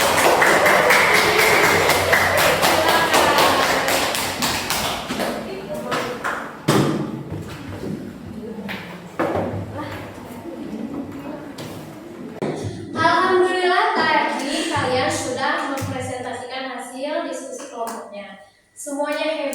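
Children in a classroom clap a rhythmic 'tepuk keren' hand-clapping chant, a loud burst of sharp claps and thumps at first, then scattered claps while a teacher's voice and children's voices chant over it.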